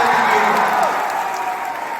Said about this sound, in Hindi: एक बार दरभंगा के लिए जोरदार तालियां।